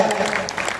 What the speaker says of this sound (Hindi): तालियां उठे